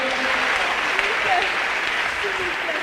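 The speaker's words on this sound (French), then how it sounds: "Let's clap for Jesus." A church congregation claps for Jesus with dense, continuous applause, joined by voices and shouts throughout.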